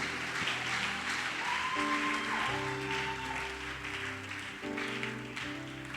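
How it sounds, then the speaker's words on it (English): Applause from an audience at a closing ceremony, a sustained wash of clapping under steady tonal music that rises and falls. "Let's give him a round of applause."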